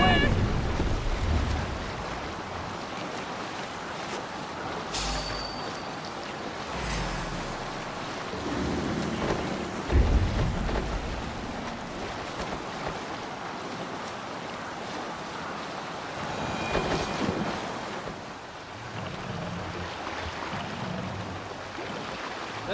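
A ship under sail in Assassin's Creed Valhalla, with continuous ocean waves and wind washing around the vessel, occasional deeper rumbles and a voice calling out partway through.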